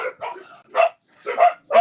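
Several dogs barking indoors in a quick series of sharp, close barks and yips, five bursts in under two seconds.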